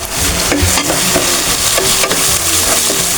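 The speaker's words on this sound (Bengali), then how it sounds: "এটা ভালো করে আমি ভাজা ভাজা করে নেবো" Ground turmeric, chilli, cumin and coriander spices fry for khichuri, a loud dense sizzle broken by repeated scraping clicks of a spoon stirring against the pan, alone without talk.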